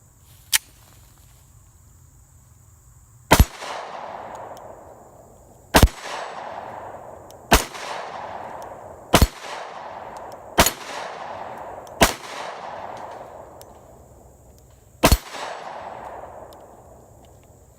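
Seven loud, sharp gunshots from an Armscor Rock Island 1911 10mm pistol ring out one at a time at irregular intervals of a second or two, each leaving a short echoing tail in an otherwise quiet setting.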